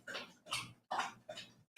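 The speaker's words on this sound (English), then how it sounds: "Y'all hear my dog drinking water?" A dog laps drinking water close by, four rhythmic slurping bursts at a steady pace with short pauses between them and no voices.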